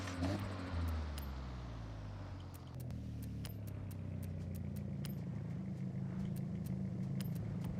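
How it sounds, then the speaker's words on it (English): A car engine and exhaust in the racing game Forza Horizon 6 hum steadily at a low, even drone, with faint clicks over it and no voices. "I want the exhaust. I want it to sound a little bit more aggressive."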